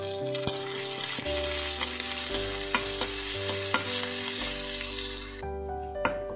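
Green chillies and a pinch of asafoetida fry in hot oil with a steady, bright sizzle and light stirring over soft background music, then the sizzle cuts out near the end.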